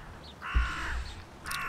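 A crow caws twice, a long harsh call followed by a shorter one, fairly close and clear against a quiet outdoor background.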